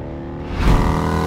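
A bagger motorcycle at speed on the Alès race track, its engine a steady low drone with a brief louder surge midway, heard close without any talk.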